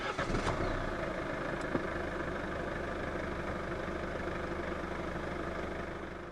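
A 2016 Infiniti Q50 2.2d diesel starting with a brief crank, then settling into a steady, low, even diesel idle heard up close.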